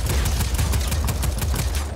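Rapid automatic gunfire in the action game Just Cause 4, a dense, evenly spaced stream of loud shots close by that carries on without a break.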